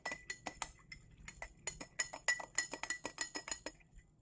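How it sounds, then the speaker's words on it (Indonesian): A utensil stirring a liquid solution being made up in laboratory glassware, giving a rapid series of bright, light clinks against the glass, close and fairly quiet, with no talking. "Aduk kembali"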